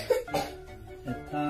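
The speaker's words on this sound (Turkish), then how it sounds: "Bir kez daha öksürür müsün?" A child coughs on request during a pretend doctor's check-up, giving a couple of short, close coughs with a brief pause between them, each followed by a soft voiced trailing sound.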